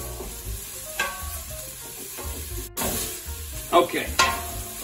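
Garlic and onions fry in a pan, the onions going translucent and the garlic browning, with a steady soft sizzle and occasional stirring scrapes, close and moderately loud with no talk.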